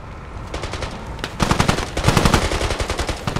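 Machine gun fire in the military shooter game Squad, with rapid bursts of automatic shots that start sparse, then grow loud and dense, rattling close by with no talk over them.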